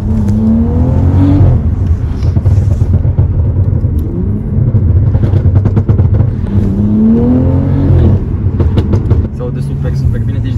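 Loud, close engine drone from a BMW 6 Series fitted with an X-pipe exhaust while driving, with rising revs and gear-change dips repeating through the run, and the engine note dominating the clip.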